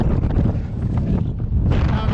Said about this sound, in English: It's too windy, we've come up here.